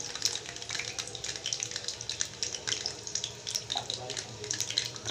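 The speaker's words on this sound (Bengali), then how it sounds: "এই হালকা গরম তেলের মধ্যে আমি চিপসগুলোকে ছেড়ে দিচ্ছি" Potato chips fry in gently heated oil, giving a continuous fine bubbling crackle with rapid pops, moderately loud and close throughout.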